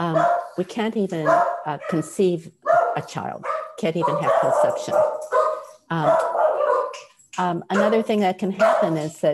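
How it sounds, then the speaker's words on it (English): A dog barking in the background during a lecture, with repeated short yaps mixed under continuous speech from a speaker. "and I apologize for the barking"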